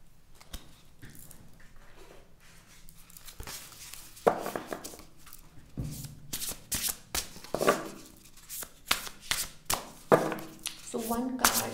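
Tarot cards being shuffled by hand, a series of crisp riffling bursts and soft slaps that grow louder and more frequent, recorded close with no speech.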